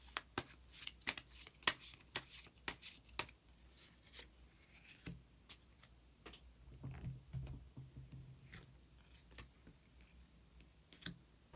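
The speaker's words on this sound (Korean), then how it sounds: "그러면 마지막으로 히든 카드 한 장 더 뽑아보도록 하겠습니다" Tarot cards are shuffled and drawn in a quiet room, giving soft, close flicks and sharp riffling snaps in irregular bursts, with a low rustle partway through.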